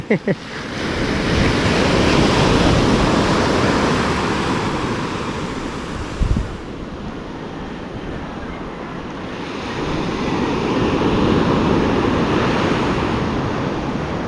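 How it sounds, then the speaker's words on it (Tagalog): Big ocean waves crash and surge in a steady, loud roar at sea, with heavy wind buffeting the microphone throughout and faint voices at times. "Grabe ang alon ay, gulong."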